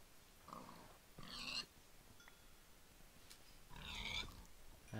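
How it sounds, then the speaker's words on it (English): Pigs in the video game Minecraft give a few short, faint grunting oinks in separate bursts, spaced apart over quiet rain-like background hiss in a plains area. "there's more pigs."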